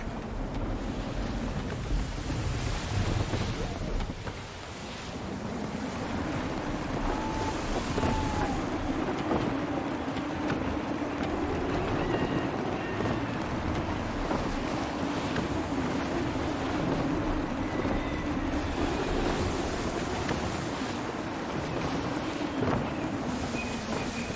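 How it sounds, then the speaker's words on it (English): Gusty wind at sea aboard a sailing ship in Assassin's Creed 3, a steady roar of wind and surf with creaking rigging, sustained and loud throughout without any talking. "Wind looks to be shifting. Stay alert, Connor. Gusty winds can be difficult to manage."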